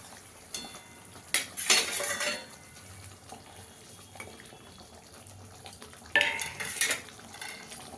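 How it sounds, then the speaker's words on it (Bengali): Fish pieces go into simmering gravy in a pan for Bengali tel koi, giving soft clattering stirs and clinks with two louder bursts of splashing and sizzling against a quiet background hiss. "এবার মাছগুলোকে দিয়ে দেবো।"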